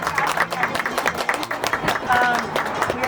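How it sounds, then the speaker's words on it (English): Scattered audience applause at a Filipino restaurant month event, moderately loud and uneven, with talking over it. "Big applause for him."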